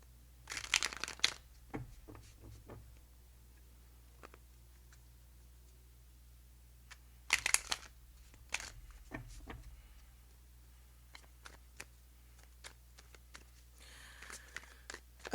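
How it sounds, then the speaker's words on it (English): A deck of tarot cards being shuffled by hand indoors: short, crisp riffling and crinkling bursts separated by long quiet gaps, close and fairly soft. "Going to shuffle real quick."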